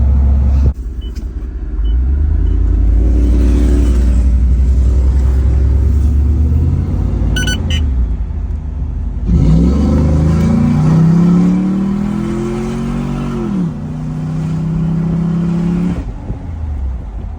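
A tuned third-generation Ram 5.7 V8 pickup with MDS turned off roars steadily, then revs up hard and climbs in pitch as it accelerates, loud and close, with no voices.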